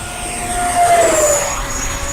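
An E-flite F-4 Phantom II 80mm electric ducted-fan RC jet makes a low pass toward the field, its steady whine swelling loud near the middle and easing away as it peels off, with wind noise and no talk.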